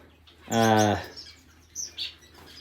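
A finch in a crowded breeding aviary gives one loud, buzzy nasal call up close, followed by a couple of fainter high chirps.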